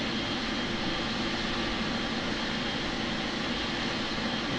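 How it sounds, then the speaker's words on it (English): Boeing 787-10 jet engines in Microsoft Flight Simulator, a steady broadband roar and hum held without change, moderately loud with no talk. "Boeing 787-10 in Etihad colors."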